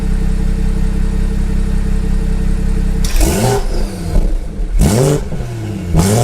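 A BMW F30 340i engine with a catless downpipe and aftermarket intake idles with a loud, steady drone, then revs sharply in several quick bursts, each roar rising and falling, close up.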